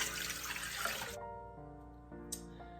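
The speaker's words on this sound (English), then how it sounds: "9 fluid ounces of water, or 256 milliliters, or 1 cup plus 2 tablespoons" Warm water pours into a bread machine pan as a steady, close splashing stream for about a second. It cuts off sharply, leaving quiet with a faint clink afterward.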